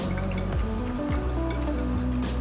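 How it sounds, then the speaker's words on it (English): Red wine pours and splashes steadily onto seasoned beef for shepherd's pie, with soft gurgling drips, close by and fairly loud. "I like to pour mine on top of the meat."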